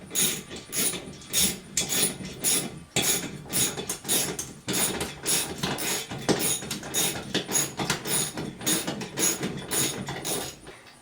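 A lag bolt with a washer is ratcheted into a wall to hang a TV mount, giving a steady series of rhythmic grinding, rasping turns, close and fairly quiet.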